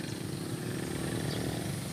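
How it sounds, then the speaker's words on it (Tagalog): A tractor engine runs in a rice field some distance off, giving a steady, low droning rumble that continues unbroken without any voices. "Meron kayo naririnig ba dyan na may nagtatraktora?"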